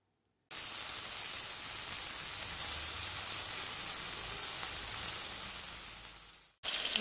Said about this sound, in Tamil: அது நல்லா எண்ணெயில் நம்ம வதக்கணும்.